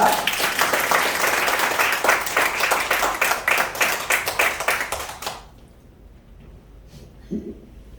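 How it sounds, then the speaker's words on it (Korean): A church lecture audience claps to welcome a speaker, a loud, close round of applause that thins into scattered final claps and stops abruptly, leaving near silence with a faint thump. "우리 박수로 맞이하겠습니다"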